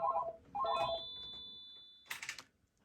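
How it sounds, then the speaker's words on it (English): A Panasonic phone rings on an extension with two short electronic ring bursts, followed by a sharp clatter as the handset is handled, all close and fairly quiet. "We're going to call this extension"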